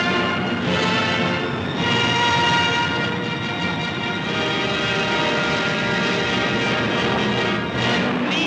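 A German sea reconnaissance aircraft waits before takeoff in a 1944 wartime newsreel, its engines giving a steady, loud, continuous drone that stays even for the whole stretch.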